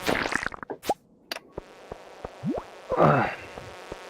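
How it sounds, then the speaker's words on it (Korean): Insects buzz and flit close by during a Minecraft-style game session, with short whirring passes, clicks and a rising whine mixed among scattered game sounds. "아 벌레 새끼들아 꺼져봐"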